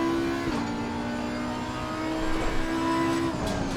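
Race car engine in the Assetto Corsa Competizione racing game, a steady sustained drone with a gear shift dip early on, holding loud and constant throughout with no talk.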